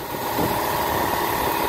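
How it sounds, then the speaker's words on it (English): A small drill with a 9/64 bit bores out a plug on a Yamaha Royal Star XVZ1300A carburetor, giving a steady high-pitched whine that holds close and constant with no talking. "You got to carefully drill them out."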